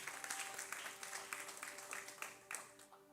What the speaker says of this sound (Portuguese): Aplauda o nome do Senhor por essa palavra